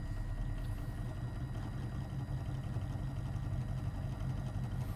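A small electric motor driven by an L298N controller whirs steadily with a faint hum and vibration, moderately quiet and continuous, with no speech.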